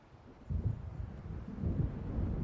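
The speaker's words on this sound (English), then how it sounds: "It seems there's a storm coming." Low, rolling thunder from an approaching storm in the Alan Wake Remastered game swells in after a quiet start and keeps rumbling steadily, deep and somewhat distant, with no voices.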